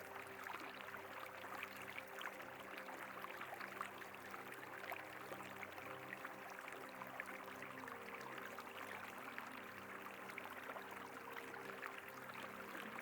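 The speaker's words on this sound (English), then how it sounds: "start to slowly listen to the sound of the water" A river flows steadily beside an outdoor yoga session, giving a constant soft rush and trickle of moving water that stays even and fairly quiet throughout, with no voices.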